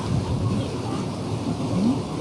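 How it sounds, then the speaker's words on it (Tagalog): Heavy rain pouring steadily at an outdoor spot by a river, a loud continuous hiss and roar of downpour with low rumbling underneath, and no clear talk. "Nakisilong na muna kami kasi lakas ng ulan."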